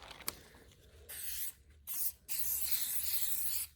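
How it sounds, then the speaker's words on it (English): Spray adhesive from an aerosol can hisses in three bursts, a short one then two longer, steady sprays, close and fairly loud, with faint handling taps before and between, no talking. "So we're just going to take the spray adhesive here."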